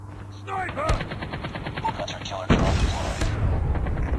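Gunfire in the Call of Duty Mobile video game, with a dense, rattling burst that grows louder and heavier partway through and runs under speech and game effects.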